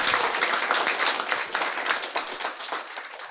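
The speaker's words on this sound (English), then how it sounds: "Oh, give some applause for Mariupol." A stand-up comedy audience claps for Mariupol, with dense, steady applause from a crowd close by for a few seconds and no talk over it.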